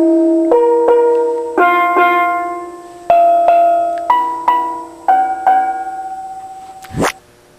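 An untuned chrome-plated steel drum straight back from plating is struck note by note in a slow run, each ringing, slightly sour tone decaying alone, ending with a quick rising scrape or sweep.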